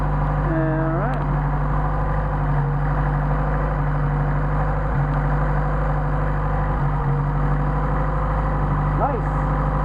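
A Mercedes 190SL engine fitted with Solex carburetors idles in a loud, continuous, even drone that stays steady throughout, with faint tonal sounds layered over the top in places.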